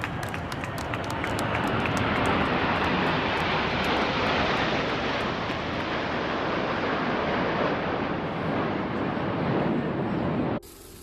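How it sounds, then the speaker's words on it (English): A loud airplane roars overhead, a broad sustained engine rumble that holds steady for several seconds before cutting off abruptly. "imagine the Nessun Dorma as the plane circles above your head"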